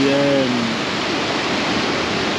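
The River Aire and River Calder flow at their split near Stourton, a steady broadband rush of moving water that fills the scene, with a brief tonal sound near the start.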